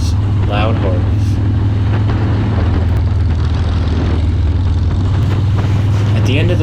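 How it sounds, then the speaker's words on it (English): Loud Harley-Davidson motorcycle engines rumble continuously nearby with a deep, throbbing idle and occasional swells, while a voice speaks briefly over them. "I hope you enjoyed getting to listen to these loud Harleys"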